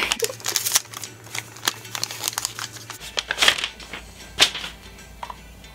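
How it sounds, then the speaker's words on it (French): An envelope holding a book parcel is torn and opened, giving close crinkling paper rustles and sharp rips in uneven bursts. "je ne sais pas ouvrir les enveloppes"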